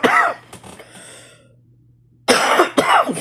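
Two harsh coughs burst out close up, separated by a short near-silent gap, with a steady low hum underneath.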